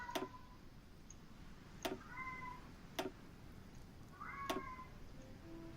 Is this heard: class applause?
no